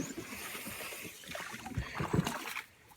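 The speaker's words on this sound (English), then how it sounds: "I literally have to try to paddle over this dead log" A solo canoe on East Canada Creek in the Adirondacks being paddled and pushed over a dead log: close knocks, scrapes and water splashes under light wind noise.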